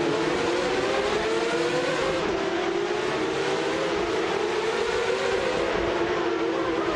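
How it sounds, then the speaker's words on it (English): A 1994 Ferrari F355 Challenge racing in a video game, a continuous loud engine drone with a rising and falling pitch under constant revs, and no talk. "Anaxagorax is leading the race in a 1994 Ferrari F355 Challenge."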